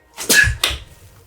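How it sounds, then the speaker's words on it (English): Two quick sneezes burst out close to the microphone, the first sharper and longer, the second a short follow-up, with quiet all around them. "Those are my sneezes."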